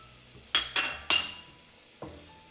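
Salt, pepper, paprika and mint being stirred into a sauce in a pan, heard as a few distinct clinks and scrapes of a spoon against metal in quick succession, then a softer final tap over a quiet background.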